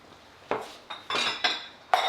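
Dirty dishes and cutlery clatter in a full kitchen sink and on the counter, with five sharp, loud bursts of clinking plates and utensils in an uneven rhythm.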